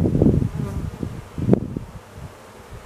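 Honeybees in an open hive during an inspection, buzzing close by in short, uneven swells with a couple of louder bursts before the sound fades.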